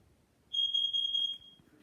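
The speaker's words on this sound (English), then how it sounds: "this is just a smoke alarm" An interconnected household smoke alarm sounds a single steady high-pitched tone lasting under a second, clear and alone in a quiet room.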